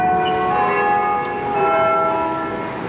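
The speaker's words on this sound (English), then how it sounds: "I've been hearing this church bell ring a few times here in the last 2 days." Church bell ringing on the hour in a Las Vegas street setting outside the Excalibur Hotel, a steady sustained peal with ringing tones layered over each other, fairly loud and continuous over light street background.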